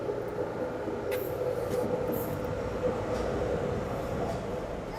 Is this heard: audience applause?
no